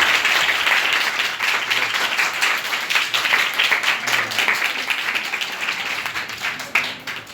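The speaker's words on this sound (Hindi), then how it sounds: "कितनी धीरे धीरे तालियां बज रही हैं।" Students at a government girls' senior secondary school in Gurugram applaud during a meditation session, steady crowd clapping that runs for about seven seconds, loud and close, with no talk over it.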